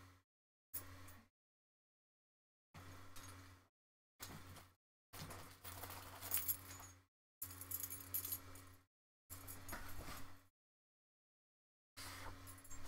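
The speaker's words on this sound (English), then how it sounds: "Son's asking for the car keys." Car keys jangling in several separate bursts of metallic clinking, close and fairly loud, broken by stretches of silence.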